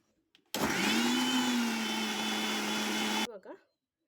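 A mixer grinder whirs steadily as it grinds coconut, onion, ginger, garlic, cinnamon and cloves in a mixie jar, a loud continuous motor drone of about three seconds that cuts off abruptly, followed by a brief rattle.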